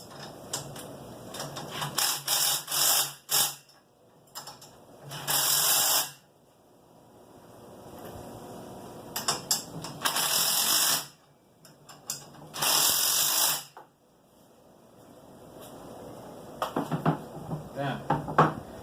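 A ratchet fitted with a 17 millimeter socket tightens a TopLift base assembly, giving loud bursts of rapid clicking that repeat several times with quiet pauses between them and no talking.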